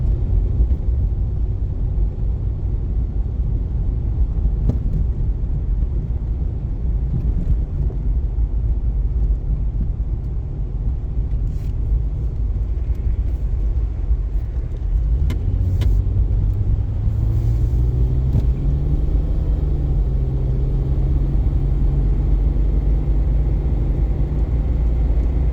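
A car cruises along Georgia Highway 124, heard from inside as a loud, steady low road rumble and engine drone, with a rising whine partway through as it speeds up; nobody talks.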